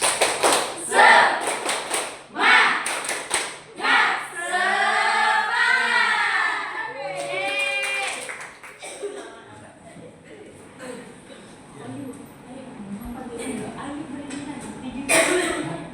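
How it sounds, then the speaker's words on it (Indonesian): A school class does a rhythmic spirit clap in a classroom, with sharp bursts of clapping at the start, then a teacher's voice and more talking over a busy room. "Tepuk semangat."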